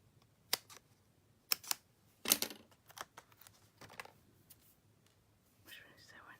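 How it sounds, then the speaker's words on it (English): Scissors cut a paper sentiment for a Halloween treat in several short, crisp snips with brief rustles between them, close and quiet, with soft murmured talk around the cuts. "I'm going to cut a little bit"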